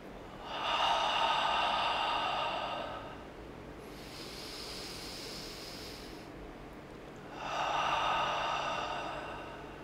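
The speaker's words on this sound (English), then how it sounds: "I continue to breathe deeply and slowly" Slow, deep breathing close to the mic: a long airy inhale, a softer pause-like exhale phase, then another long breath drawn in, each lasting several seconds.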